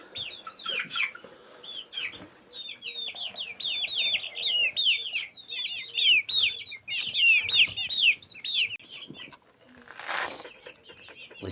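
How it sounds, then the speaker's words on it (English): Chickens in a new coop give a long run of close, chattering clucks and squawks that rise and fall, with a brief loud rustle of movement near the end. "We got chickens"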